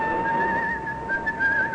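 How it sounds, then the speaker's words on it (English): In an old-time radio crime drama, a man whistles a wavering tune as he walks through a busy railway station, with a faint background murmur beneath the melody. "A calm, gay Jim Hudson made his way, whistling as usual, through the weekend-bound crowds of Waterloo Station."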